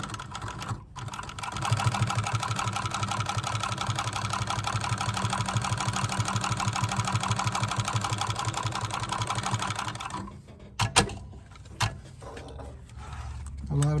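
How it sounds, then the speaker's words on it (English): A post sewing machine stitches leather pieces for Alden Indy boots, its motor and needle running as a fast steady mechanical chatter for about eight seconds before it stops, followed by scattered handling knocks. "This is a post machine."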